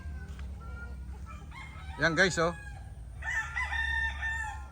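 A rooster crows loudly nearby while tethered chickens cluck around it on a farm, with someone speaking briefly over the farmyard background.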